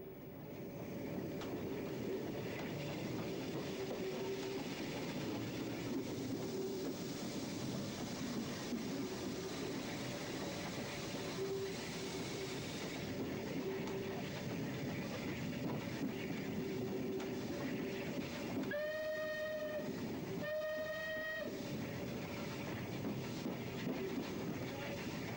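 A Bulleid steam locomotive working up a 1 in 76 gradient near the A351 Nursery Road Bridge, a steady, fairly distant rumble of train and track noise throughout, with two short whistle blasts near the end.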